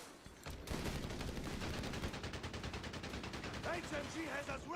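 Machine-gun fire in the strategy game Company of Heroes 3 rattles in a fast, steady stream from the first second to the end, loud and dense, with a faint voice briefly audible toward the close.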